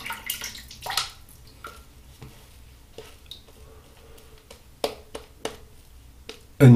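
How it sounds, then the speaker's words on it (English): A shaving brush works water into lather from "Teacher's Pet" shaving soap, making soft wet squishing and sloshing strokes with small splashes and clicks, fairly close, fading and recurring irregularly. "So let's add a bit more water."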